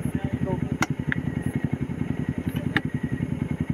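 A Yamaha Aerox scooter engine runs with a loud, close, rapid putter and steady pulsing rhythm, with occasional clicks and clatter over it, and a voice talks over the engine.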